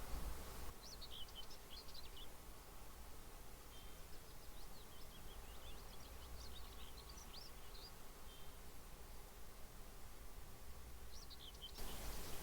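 Faint birdsong chirps in a very quiet outdoor spot, with thin, scattered calls over a hushed background and a faint insect-like buzz.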